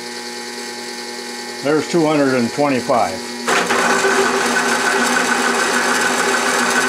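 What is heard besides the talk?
DC motor driven drill running at increased speed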